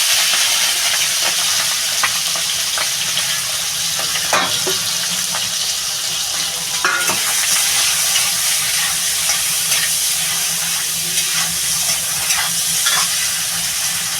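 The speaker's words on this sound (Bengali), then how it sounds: "তেলটা আমার গরম হয়ে গেছে বন্ধুরা আমি এই যে চিংড়ি মাছটা ঢেলে দেবো" Prawns hit hot oil in a home kitchen and sizzle steadily and loudly, a dense continuous frying hiss with occasional stirring clatters and no voices, while a pumpkin curry is being prepared.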